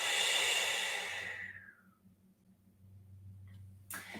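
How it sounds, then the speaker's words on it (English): A long, breathy exhale through the mouth, close and soft, fading out over about two seconds, followed by quiet low hum and a short second breath at the end. "exhaling through your mouth."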